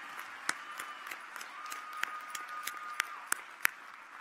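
A commencement crowd applauds its student speakers with steady, fairly distant clapping that holds for several seconds, with a few sharper individual claps standing out.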